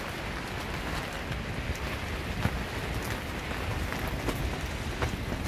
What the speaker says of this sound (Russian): потихоньку пошел град